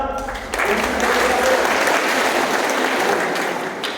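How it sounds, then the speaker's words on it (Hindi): A crowd of schoolgirls at a government girls' inter college in Kandhla claps together in a dense, steady burst of applause that swells after a brief quieter start and holds loud, with some voices mixed in. "आदरणीय प्रधानमंत्री देश के कैसे ताली बजाते हैं"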